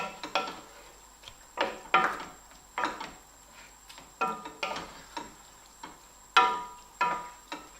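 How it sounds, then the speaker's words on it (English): A utensil scrapes and clinks against a pot of lamb rogan josh being stirred on low heat: soft, irregular knocks and scrapes, fairly quiet, with no talking. "So we're just going to stir all this up."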